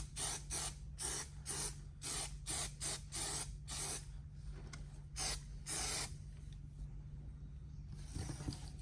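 Glue sprays from a can in short rapid hissing bursts, then a few longer blasts, while a car headliner is being installed in a BMW E30 sedan; the bursts are close and clear over a low steady hum.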